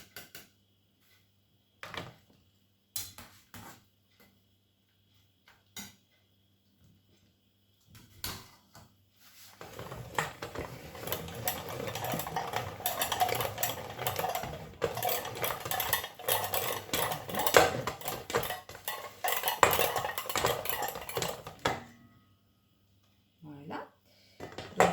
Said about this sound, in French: je vais finir de passer toutes mes pommes de terre